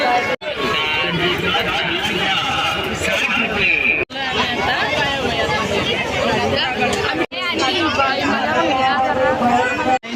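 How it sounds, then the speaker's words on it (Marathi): Dense crowd chatter and babble fill the Mhasa village fair on a busy Sunday, a steady loud hubbub of many voices throughout, broken by a few brief cuts. "बघा खूप गर्दी गर्दी आज रविवार आहे ना"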